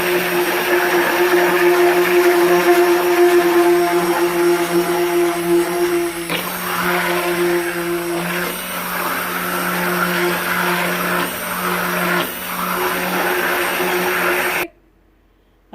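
A steady, loud electric mixer whirs on and on while beating goat milk soap batter toward trace, its hum shifting slightly now and then before cutting off abruptly near the end.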